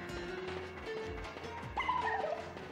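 A dog barks in the Miitopia video game: a few short, tonal yips, with a clearer bark rising near the end over steady game music.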